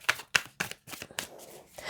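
Tarot cards are handled and drawn from a deck, with several quick crisp slaps and shuffling rustles close by, then a softer sliding sound.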